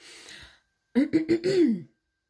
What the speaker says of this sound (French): J'ai allumé un peu d'encens. Donc ça me fait tousser